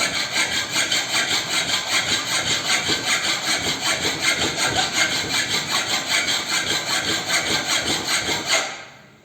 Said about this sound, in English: So cross filing will be done in this way.